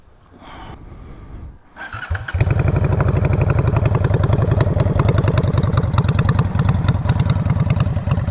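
A Honda Shadow 600 motorcycle engine cranks and catches after a short pause, then settles into a loud, steady, throbbing idle close by.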